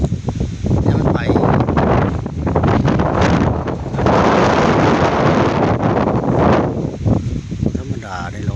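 Strong, cold wind blows across rural rice fields near a field hut, roaring and buffeting the microphone loudly and continuously, with a voice speaking over it at times.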